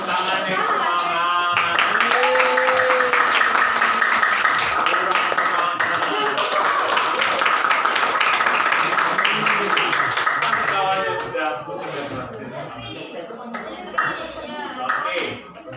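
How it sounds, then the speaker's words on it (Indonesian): A classroom group claps hands together in energetic applause, fairly close and continuous, mixed with children's voices and chatter, easing into quieter scattered claps and talk toward the end. "Tepuk tangan yang semangat."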